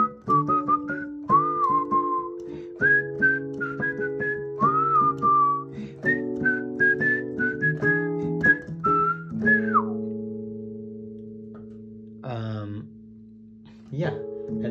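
Whistled bossa nova intro melody, a clear solo whistle tracing the tune over sustained piano chords, with a short pause and two brief phrases near the end.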